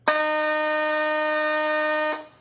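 A fire station alarm tone signaling a call blares as one loud, steady electronic note. It holds unbroken for about two seconds, then cuts off and a short echo fades.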